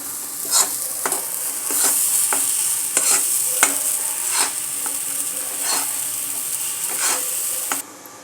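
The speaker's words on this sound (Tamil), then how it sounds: "நெய்லேயே நல்லா போட்டு கலந்துக்கலாம்." Jackfruit halwa sizzles in hot ghee as a spoon stirs it in a pan, a steady frying hiss broken by repeated scraping strokes at an irregular rhythm, close up, with no talking.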